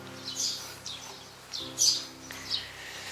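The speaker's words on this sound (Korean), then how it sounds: "새소리가 여기까지 계속 들리네요" Birds chirp and sing outdoors near a traditional Korean hanok house in the countryside of Nonsan, a few bright calls rising over faint steady background hum, moderately distant, with no talking.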